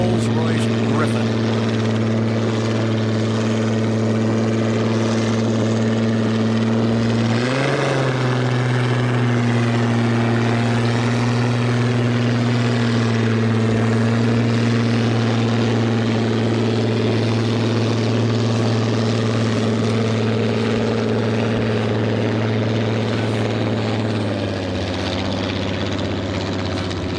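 Rolls-Royce Griffin engine of a racing hydroplane at the APBA Gold Cup, a loud steady low drone with a strong constant hum, shifting pitch briefly partway through, continuous and close for the whole stretch.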